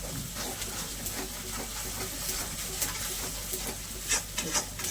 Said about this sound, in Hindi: मसाले क्या बेहतरीन भून रहे हैं मेरे